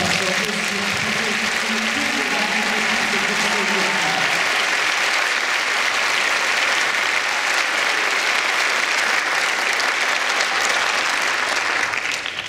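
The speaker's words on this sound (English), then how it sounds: "So please give a really warm, warm round of applause for our first team." A concert audience bursts into sustained, dense applause at an orchestra show, loud and steady for several seconds after a brief stretch of quieter sound, with no break until the end.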